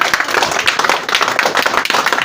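A village gathering applauding at a student felicitation event: dense, lively clapping from many hands, loud and close, steady throughout the short burst.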